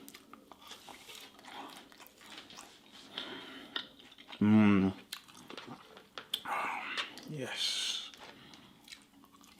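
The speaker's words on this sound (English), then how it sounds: "I want to try out some of these potato bites. Dip it in some of the beans." Someone bites and chews potato bites dipped in beans, with a loud crunchy bite and soft mastication sounds mixed with brief speech and quiet mouth noises.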